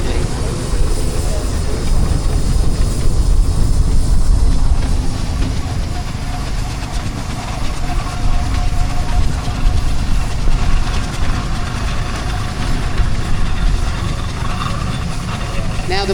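A Fowler steam engine rolls away at a steam fair, with a constant heavy mechanical rumble and a faint whine lasting throughout, close and loud, while someone speaks over the noise.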